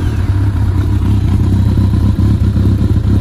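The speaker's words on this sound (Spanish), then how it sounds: "Ya veis que aguanta el ralentí estable." Kawasaki ZRX 1200 S motorcycle, a café racer build, idling steadily up close with a loud, even low rumble and mechanical clatter, no voices.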